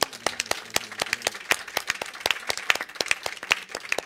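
An audience claps for the speakers at the close of a literature talk, with distinct individual claps in a loose, fairly sparse rhythm, close and crisp, and a faint voice near the start.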